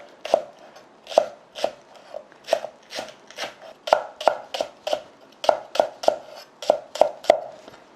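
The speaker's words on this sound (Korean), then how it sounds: "무가 절여지는 동안에 파를 썰어 보겠습니다" A knife chops green onions on a cutting board for kkakdugi radish kimchi, about twenty crisp, close strokes at a steady, slightly uneven rhythm, with no talking.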